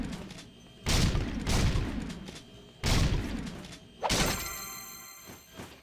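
Video game gunfire in Jak 2, three heavy booming blasts spaced about two seconds apart, each with a long rumbling decay, the last followed by ringing metallic debris and clatter, no talking.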